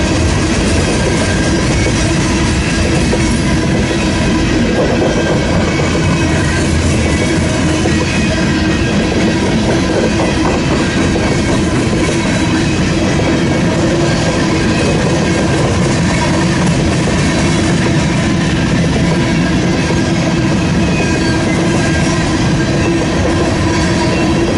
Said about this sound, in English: the end of this train right here will be coming to my plant probably in the next 2 days